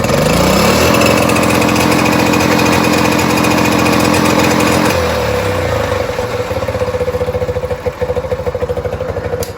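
A Suzuki Z50 minibike engine on blocks runs at wide open throttle, a loud, steady buzzing drone that holds high revs, then turns choppier and stutters rhythmically as it bounces off the limiter.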